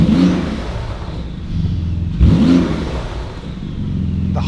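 A Porsche sports car engine revving with exhaust valves open: two loud, throaty blips rising and falling in pitch, with a deep rumbling idle between them, close and alone.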